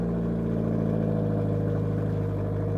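A car with no exhaust system idles steadily with a loud, deep, unmuffled rumble that stays constant throughout, at a public auto auction.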